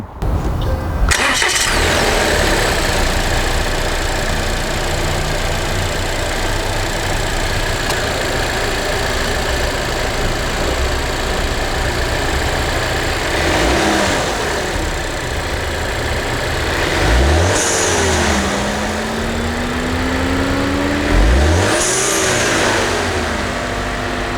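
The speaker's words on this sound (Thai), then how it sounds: "มาฟังเสียงเครื่องยนต์กัน" A Volvo XC40 T5 AWD engine cranks and starts, then settles into a steady idle with a couple of brief revs rising and falling near the end.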